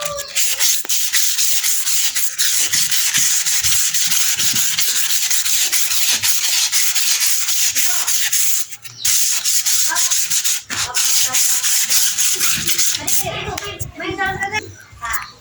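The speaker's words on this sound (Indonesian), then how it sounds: "Kita amplas dengan menggunakan amplas masih nomor 400 ya." Loud, continuous scratchy rubbing of 400-grit sandpaper worked back and forth close up over a clear wood finish, with brief pauses and faint voices in the background.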